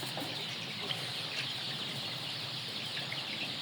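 Chickens on a poultry farm cluck in a dense, continuous chorus of many overlapping birds with no clear speech.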